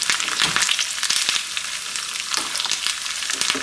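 Mustard seeds, urad dal, chana dal and dried red chillies tempering in hot oil for an amla pickle give a steady, close crackling sizzle with sharp pops throughout.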